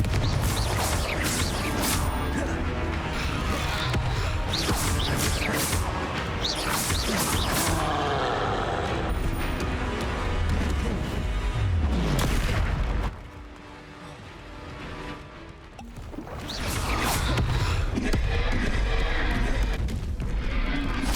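Blasting-spell explosions from Hogwarts Legacy burst out in rapid, loud succession over dense game effects, broken by a brief quieter lull before the booming and crashing resumes.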